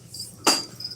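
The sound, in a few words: crickets chirping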